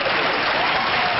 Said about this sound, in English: the audience cheers and claps